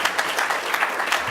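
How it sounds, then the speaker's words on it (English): An audience clapping briskly in a hall during a launch event, a short burst of dense applause at steady loudness. "Big applause, please."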